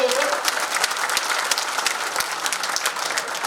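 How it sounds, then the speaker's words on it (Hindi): A live audience at a motivational talk claps loudly and steadily throughout, dense applause with a few sharper individual claps standing out and faint voices mixed in. "एक जोरदार ताली अपने लिए बजाओ दोस्तों"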